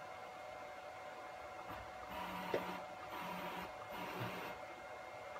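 A Bridgeport J2 milling machine converted to a ClearPath servo drive runs its spindle at 600 RPM, giving a faint, steady whirring hum that holds throughout with slight swells and no talking.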